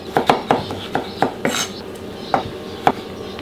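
A kitchen knife cuts a gherkin into julienne strips on a cutting board, making a quick run of light, sharp taps, then a few more spaced chops.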